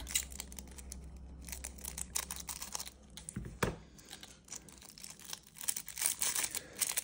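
Scissors cut open the plastic packaging of a Pokémon 151 Ultra Premium Collection, with crinkling film, rustling and sharp snips, close and fairly quiet, plus one sudden louder crack midway.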